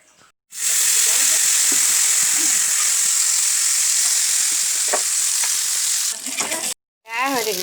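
Food frying in mustard oil on a tawa, a loud steady sizzle and hiss that holds for several seconds, then breaks off briefly before resuming, with no talk over it.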